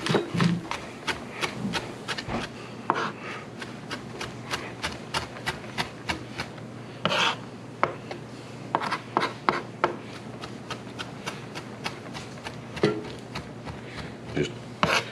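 Knife chopping parsley on a wooden cutting board with a two-hand rocking method, dense quick taps in an uneven rhythm, close and moderately loud, with a few louder knocks among them.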